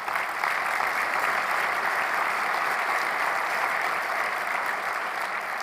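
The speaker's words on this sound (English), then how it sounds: "let's give them a big round of applause" Audience applause after a senator's speech, a steady, full wash of many hands clapping that holds evenly throughout with no talking.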